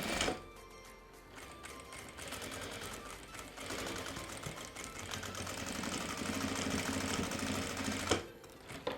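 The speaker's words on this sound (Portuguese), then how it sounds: "E agora eu vou passar uma costura aqui no meio para formar os 2 bolsos." A sewing machine runs steadily for several seconds, stitching a seam down the middle of fabric to divide a first-aid pouch into two pockets, with a brief pause before a short final burst.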